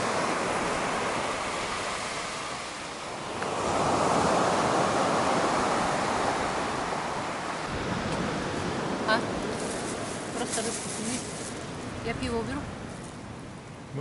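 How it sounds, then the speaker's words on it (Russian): Broad, steady wash of Black Sea surf at Adler in October fills the clip, swelling into a louder wave around the middle, with faint voices and small clinks near the end. "Море в октябре."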